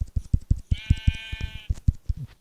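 Sheep in the Minecraft video game bleat in a single drawn-out wavering cry, set among a run of short soft rhythmic thuds like footsteps in the game.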